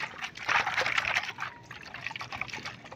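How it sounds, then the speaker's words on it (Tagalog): Water sloshes and trickles inside a toilet tank whose faulty float sinks instead of floating, causing overflow, a soft watery gurgle that swells briefly then continues more quietly. "Rinig nyo ba yung laman na tubig sa loob?"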